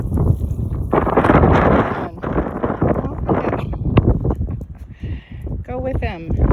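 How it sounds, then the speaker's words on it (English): Gusty wind roars across the microphone outdoors beside a chicken coop, loud and uneven, while a person speaks and chickens cluck faintly near the end. "it's windy."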